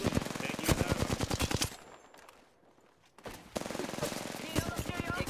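Rapid automatic gunfire in Apex Legends comes in close, loud bursts of evenly spaced shots, breaks off for about a second and a half into a quiet lull, then resumes in dense sustained fire.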